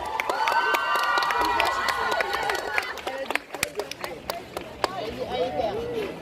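Audience at a cosplay contest at the JapaNantes convention claps and cheers for a Genshin Impact Aether cosplayer, scattered sharp claps and shouts in a hall, with a voice speaking over the start.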